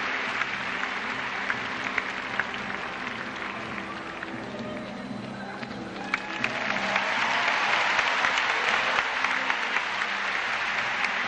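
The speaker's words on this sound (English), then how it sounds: "Good appreciation from the Australian crowd" An Australian crowd applauds steadily at a Commonwealth Games gymnastics medal ceremony, a broad wash of clapping from a large audience that swells louder partway through, with a voice talking over it.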